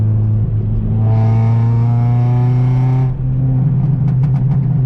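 An Acura RSX engine idles with a deep rumble, revs up steadily in third gear, then settles, followed by a quick series of sharp exhaust pops and crackles.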